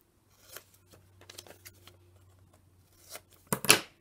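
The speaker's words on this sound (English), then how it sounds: "I flip the bottom up like so. I cut my corners." Scissors snip through the corners of a plastic baggie being made into junk-journal ephemera, giving a series of short, close, crisp cuts with a sharper cluster of snips near the end.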